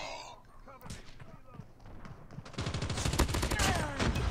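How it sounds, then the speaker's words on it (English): Rapid NA-45 gunfire rattles in a Call of Duty Mobile match, a fusillade of shots that swells louder and denser toward the end, with a player talking over it. "Someone's using the NA-45. You can hear that thing from a mile away."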